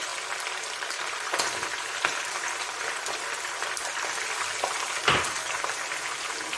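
Chicken frying in a karahi as ginger garlic paste goes in, producing a steady crackling sizzle with a few sharper pops and a louder burst near the end, close and continuous with no talk.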